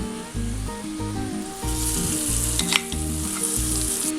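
Hot oil tempering of fried mustard seeds and chili powder pours into a coconut sardine fish curry, a loud continuous sizzle and crackle close up, rising as it hits the curry, with faint musical notes underneath.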